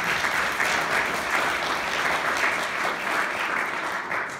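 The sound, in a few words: audience applause for Chief McAllister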